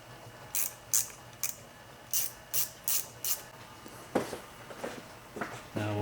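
Small 7 mm hose clamps on a cold air intake hose being tightened with a hand tool, giving a quiet series of short ratcheting clicks in bursts, followed by a couple of softer rustling handling sounds.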